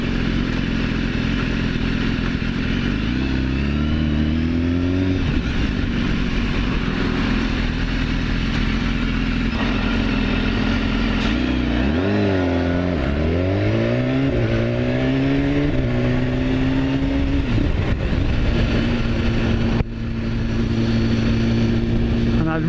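A 2015 BMW S1000RR ridden on a test ride, its engine and loud race-style exhaust climbing and falling through the gears in sweeping pitch changes, close and continuous for the whole stretch.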